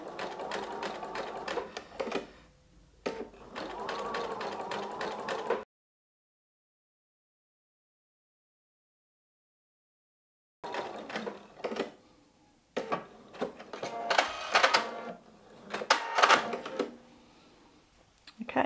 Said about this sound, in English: I've sewn the diagonal seam to where it turns the corner and starts going straight again